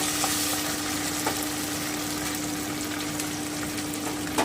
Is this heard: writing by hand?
no